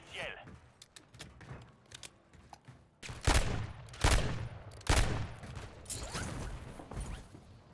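Gunfire from a weapon in a first-person shooter video game: several loud bursts of shots with sharp onsets, separated by short gaps, over quieter game ambience and mechanical clicks.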